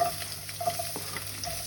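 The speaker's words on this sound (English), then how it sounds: "So the onions are in, they're cooking away" Onions cook in a little oil in a pan on the hob, a soft steady sizzle with a few stirring clicks and a faint background tone throughout.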